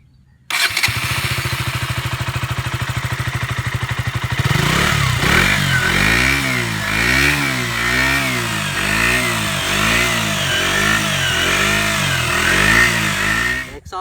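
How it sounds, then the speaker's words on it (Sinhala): A KTM Duke 125 BS4 motorcycle starts with a cranking whir, catches and settles into a loud, close idle, then revs up and down repeatedly through its exhaust, rising and falling with no talking. "එක්සෝස්ට් එක නිකන් ට්‍රැක්ටර් එක සද්දයක් වගේ කියලා සමහරු කියනවා."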